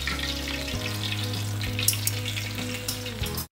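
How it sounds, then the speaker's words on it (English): Black pomfret frying in oil, a loud, dense crackling sizzle close by, steady over a low background hum, with a few brighter pops before it cuts off abruptly. "我的鱼炸好了"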